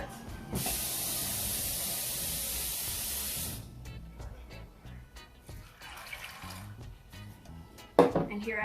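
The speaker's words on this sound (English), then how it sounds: "I'm going to add some more water to that." Water pours steadily into a cooking pot holding rice and peas that soaked overnight, a bright continuous rush lasting about three seconds, then quieter clinks and handling noises, with a sharper knock near the end.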